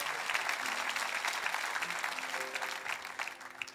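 A church congregation applauds together at an Easter service celebrating the resurrection, with dense sustained clapping from a room full of people and a few faint voices mixed in.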